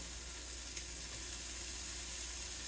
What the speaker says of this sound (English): The first thing we're going to do is fry up some bacon.